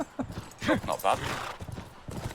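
Horse galloping in The Last of Us, a quick run of hoof clip-clops at moderate distance, mixed with game sounds while a person speaks briefly over it.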